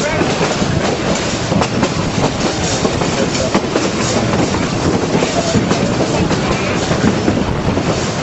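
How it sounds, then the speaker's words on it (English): A narrow-gauge train rumbles steadily along the tracks, with dense rattling and rhythmic clatter from the wheels filling the whole stretch. "I'm on the train today"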